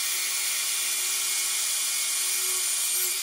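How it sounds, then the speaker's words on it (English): A circular saw cuts through the wooden table top of an industrial sewing machine, giving a steady, loud, unbroken whine from start to finish. "We're just gonna go in with the circular saw and literally just chop this piece off"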